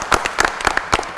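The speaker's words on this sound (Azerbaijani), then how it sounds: "Ondan qabaq istəyirəm özünüzü alqışlayın." Brief burst of applause from an audience at a fight promotion press conference, a few sharp uneven claps close by.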